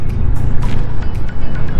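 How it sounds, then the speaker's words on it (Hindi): A Yamaha FZ25 motorcycle's exhaust rumbles loud and close while riding on a solo Sunday ride, a steady throaty drone with wind buffeting over it. "तो ये गाड़ी का एग्जॉस्ट का साउंड अच्छा है"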